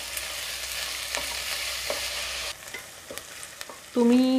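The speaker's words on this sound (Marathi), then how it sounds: "कांदा चांगला परतून घ्यायचा आहे आपल्याला।" Onion sautés in a pan for mutton curry, a steady sizzle with the dull taps of a spoon stirring, the frying easing off partway through before a short tonal sound at the end.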